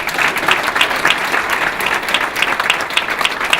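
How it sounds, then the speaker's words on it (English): Audience at a Martin Luther King Jr. unity breakfast in Muskegon breaks into steady, dense applause, clapping loudly and evenly for several seconds with no talk over it. "Give yourself a round of applause for that."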